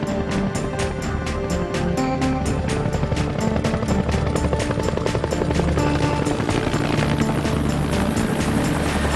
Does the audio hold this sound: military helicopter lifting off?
yes